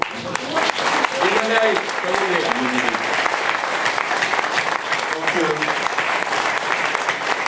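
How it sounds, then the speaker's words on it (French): Sustained audience applause at an election night gathering in Le Beausset, a dense crowd clapping loudly throughout with voices calling out and talking over it. "Je crois qu'on peut les applaudir plus longtemps."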